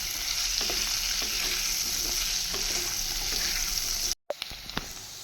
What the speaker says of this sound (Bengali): কিছুক্ষণের জন্য লাল লাল করে ভেজে নেব।